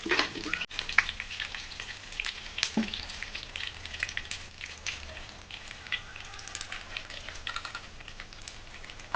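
Cumin seeds hit hot oil in a pan for stuffed masala brinjal, crackling and spitting in dense bursts that settle into a busy, uneven sizzle.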